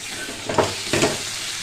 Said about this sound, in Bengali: আলু মশলা দুটোই কষে গেছে, তেল পুরো ছেড়ে দিয়েছে